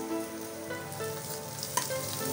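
Ginger and garlic sauté in a hot pan for mutton bone soup, giving a continuous dense sizzle and crackle up close with a faint metallic clink partway through.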